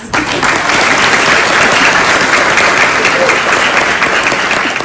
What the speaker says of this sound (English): Please join me in another round of applause for Commander Adams' sister, Mrs. Piso Mathis, who beautifully sang our national anthem.